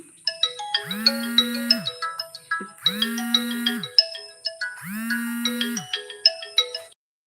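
A phone ringtone plays a repeating melodic tune with a sustained low tone, three identical cycles in a row, loud and clear with no voices over it.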